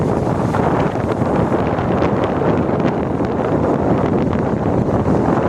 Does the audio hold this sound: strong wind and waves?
yes